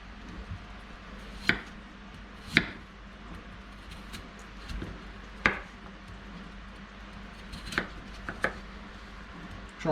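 Knife chopping through potatoes on a board for a potato bake, a handful of sharp separate cuts at uneven intervals against quiet room noise.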